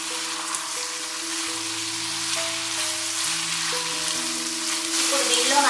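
Amaranth leaves cook in a pan, giving a continuous moderate sizzle and crackle that grows slightly louder toward the end, heard under steady background music.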